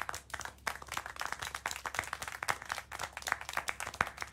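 Rapid, close hand clapping in the video game Syberia: The World Before, a quick uneven series of claps from a small group that continues steadily, with no talk over it.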